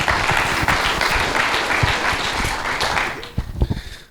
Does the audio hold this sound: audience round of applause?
yes